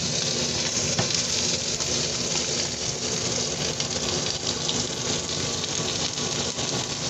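Steak searing in a very hot pan gives a loud, dense, unbroken sizzle that holds steady for several seconds, close and without any talk.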